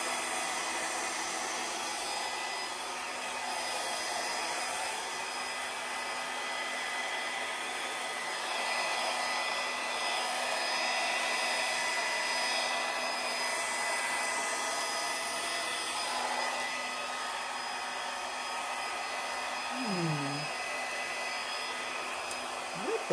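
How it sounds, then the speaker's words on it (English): A hair dryer blows steadily and close over acrylic paint in a Dutch pour, a constant broadband whoosh with a faint whine, running without a break; a brief squeak near the end. "it's certainly much quieter than my other hair dryer"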